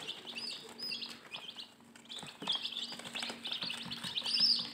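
Four-day-old chicken chicks hatched from home hens, chirping in quick high repeated peeps, fairly faint and close, with no talk.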